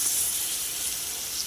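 Mint leaves sautéing in hot oil with ginger-garlic paste for chicken biryani, a steady close bright sizzle and hiss with no pauses.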